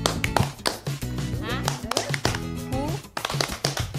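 Children clapping the "tepuk semangat" rhythmic chant in a class making fish-skin chips, a few patterned bursts of claps mixed with voices chanting and cheering along.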